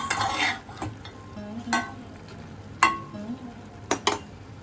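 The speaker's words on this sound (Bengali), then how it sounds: "এবার আমি ভেজে রাখা চিংড়ি মাছটা মিশিয়ে দিচ্ছি।" Fried prawns being stirred into okra cooking in a pan, with scraping spatula strokes against the pan at irregular intervals over a soft, steady sizzle, close and moderately quiet.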